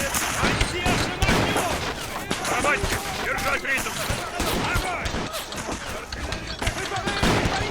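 A Napoleonic war game battle at Borodino, with ragged musket volleys and cannon shots crackling in repeated loud bursts. Voices talk over the gunfire throughout.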